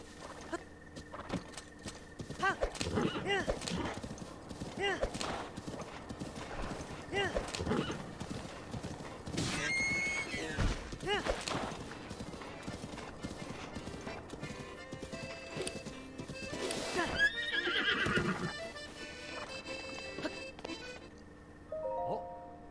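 A horse in the video game The Legend of Zelda: Breath of the Wild trots with rhythmic clip-clopping hooves and gives several loud neighs and whinnies. Game music and a talking player are heard alongside.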